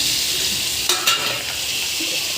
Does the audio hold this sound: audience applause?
no